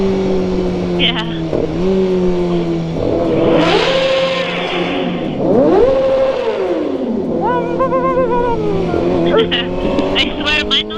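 A motorcycle engine drones and revs while riding, pitch rising and falling with throttle changes, loud and close under wind noise as riders talk over it.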